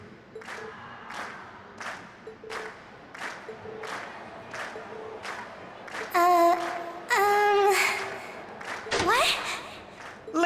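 A festival crowd in Trails of Cold Steel claps in a steady rhythmic beat, then breaks into louder cheering and voices, all moderately loud.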